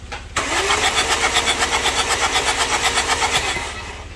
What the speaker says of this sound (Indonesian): kemudian kita starter mobilnya